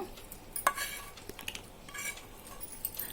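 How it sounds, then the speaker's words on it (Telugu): A spoon stirs fried tempering into yogurt for a yogurt chutney, making soft close scrapes and a few light clinks against the bowl in a quiet kitchen, with no talking. "ఈ పోపు చక్కగా పెరుగులో కలిసేలాగా చక్కగా అటు ఇటు తిప్పుకుందాము"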